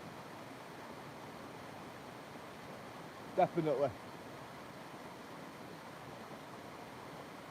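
Steady broadband rush of a waterfall plays throughout at even loudness, with a short spoken word briefly over it midway.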